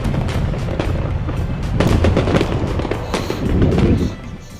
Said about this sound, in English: Insert explosion there. And fireworks. Lots of fireworks.